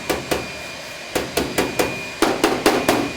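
A body hammer with a pick end and low crown face strikes car sheet metal in sharp, ringing blows: two quick taps, a pause, then a steadier run of several strikes close up.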